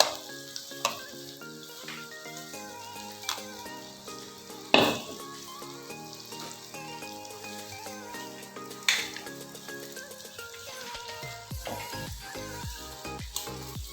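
Kumquat pickle sizzles steadily in a pan as ground spice powder with fenugreek is stirred in, with occasional clinks and scrapes of a utensil against the pan over a continuous frying hiss.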